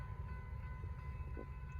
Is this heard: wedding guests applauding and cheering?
no